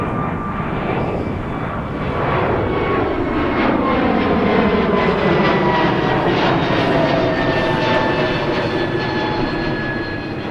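A Delta jet airliner takes off from runway 30 left at Minneapolis–St. Paul, a loud sustained engine roar with a sweeping whine that shifts in pitch as it passes, heard from a distance.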